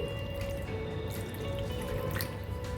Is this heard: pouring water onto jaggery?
yes